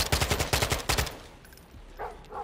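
Rapid automatic gunfire in Call of Duty Modern Warfare 2 hammers out in a loud, close burst of shots for about a second, then fades into quieter scattered noises.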